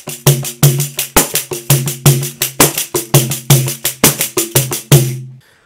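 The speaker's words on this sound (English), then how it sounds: "Here's the same pattern on the pandeiro, one of Brazil's quintessential percussion instruments." Brazilian pandeiro playing a steady forró rhythm, crisp jingle-laden strikes alternating with deeper thumped tones in a tight repeating pattern, loud and close with no voices.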